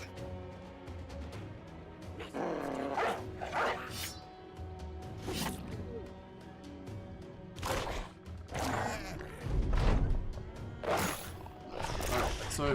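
Dog barking in the turn-based tactics game Battle Brothers, during a fight at a witch hut, with sharp repeated bursts over game sounds and someone talking throughout.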